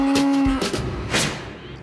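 Dairy cattle at a farm after milking, one cow giving a short low moo followed by bleat-like calls, fairly close and fading, with no other sounds around them.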